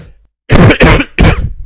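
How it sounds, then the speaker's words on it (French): A person coughs and clears their throat, three close, forceful bursts following a brief silence, loud and near. "Quelques toux avec les maladies qui sont en train d'arriver"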